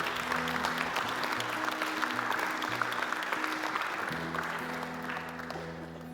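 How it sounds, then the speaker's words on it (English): A worship congregation applauds steadily as two people come up to the front, a full wash of clapping held for about six seconds over low sustained musical tones. "Everyone give a round of applause for them as they come up."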